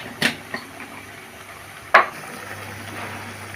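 Chili powder and cumin-coriander powder sauté in a pan, with two sharp spatula clanks against the metal over a faint, steady sizzle.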